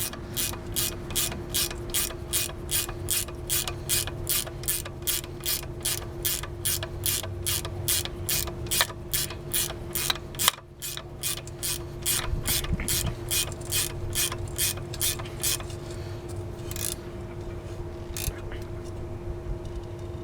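Socket ratchet clicking in a fast, steady rhythm while a bolt is tightened during coil spring replacement on a 2002 Honda Civic Si, close and clear. The clicking breaks off briefly about halfway through, resumes, then thins out near the end.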